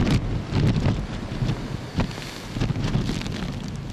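Strong typhoon wind with heavy rain on the Hong Kong waterfront during a No. 8 or higher signal storm, a loud steady roar with gusting buffets against the microphone and no voices.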